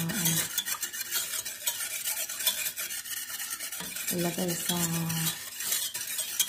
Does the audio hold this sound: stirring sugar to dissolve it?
yes